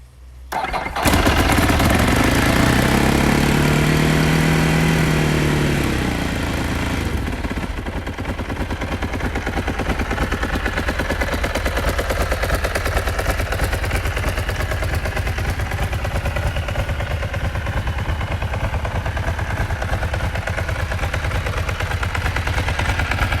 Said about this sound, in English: Typical Ducati dry clutch rattle.